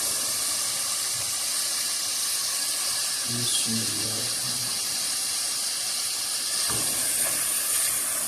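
Chicken seekh kebabs hitting hot masala in a pan set up a loud, steady hissing sizzle that runs the whole time, with a brief voice speaking partway through.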